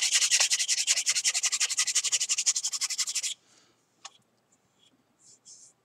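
Hand-sanding a 3D-printed Mandalorian prop part makes a rapid, rhythmic series of close, raspy scrubbing strokes, about three seconds long, then a few faint handling clicks and rustles in near silence.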